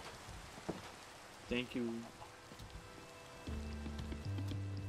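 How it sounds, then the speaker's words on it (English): Steady rain falls in the video game Minecraft, a faint hiss of drops that runs under sparse voices and game sounds. "Have fun in the rain and night."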